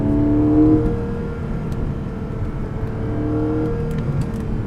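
Porsche 718 Boxster 25 Years engine in Sport Plus mode blipping through a rev-matched downshift, a brief rising rev at the start followed by a steady engine hum, heard from inside the car.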